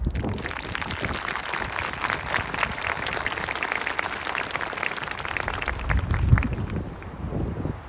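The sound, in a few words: applause for the drill sergeants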